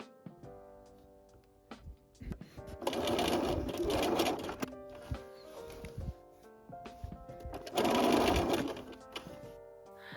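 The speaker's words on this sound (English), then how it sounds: "Baste down the center to temporarily hold the strap in place." A sewing machine basting down the center of a strap on a beginner's everyday tote bag, running in two close bursts of steady whirring stitching separated by short pauses and small clicks.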